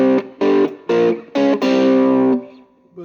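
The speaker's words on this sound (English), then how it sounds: "I'm going to switch on the overdrive, which is the yellow" An electric guitar with overdrive plays through a Nux Mighty 8 amp: four short, gritty chord stabs in a rhythmic pattern, then one longer sustained chord that rings and fades.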